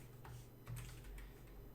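Keys on a computer keyboard are tapped in a short burst of close, crisp clicks while a command is typed in, with no talking.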